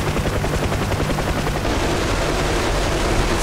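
A UH-1 Huey helicopter door gun fires in a combat flight simulator game, a loud continuous burst of very rapid shots. The burst is layered over the steady chop and whine of the helicopter.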